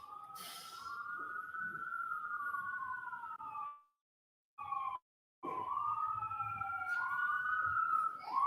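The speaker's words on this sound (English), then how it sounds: "wait until the sirens pass" Emergency sirens wailing as they pass outside a courtroom, a loud sweeping rise-and-fall tone that cuts out briefly twice before resuming, with no talk over it.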